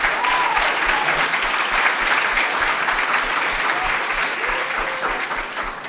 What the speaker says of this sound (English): Can we give another round of applause to our career partners?